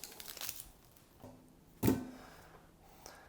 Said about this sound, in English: I'm going to cut it in half and cut it in quarters